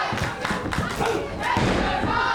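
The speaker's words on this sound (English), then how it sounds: "This crowd trying to rally Mike back to his feet." A wrestling crowd roars and shouts in bursts, rallying a downed Smashing Mike back to his feet, with loud thuds and slams from the ring mixed into the dense, close crowd noise.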